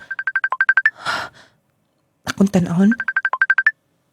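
A cellphone ringtone in a Cebuano live radio drama chirps as a fast, bright beeping melody, breaks off for a breath and a few spoken words, then starts up again.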